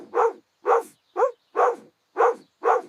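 A cartoon dog barks six times in an even, steady rhythm, each bark short and punchy, close and loud with silence between them.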